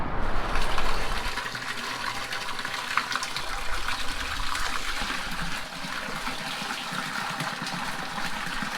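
Water gushing and trickling into an empty container being filled at a roadside water source, a steady continuous pour with a slightly louder start and no talk.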